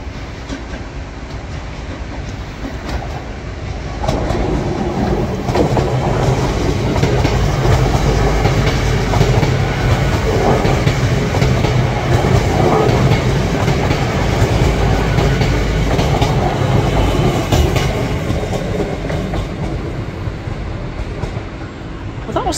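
A TransPennine Express train runs through Manors station in Newcastle, its rumble and clickety-clack building loud and close and then staying steady for a long stretch.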